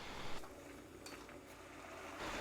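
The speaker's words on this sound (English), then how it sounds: "Next, add all root vegetable and stir." Pork, onion and root vegetables are stirred in a pot for miso soup, heard as faint scraping and light clinks over a steady low sizzle.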